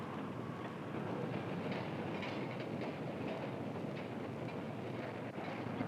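A subway train rolls through an underground tunnel, giving a steady, fairly faint rumble with soft rhythmic clickety-clack from the wheels.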